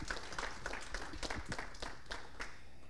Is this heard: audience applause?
yes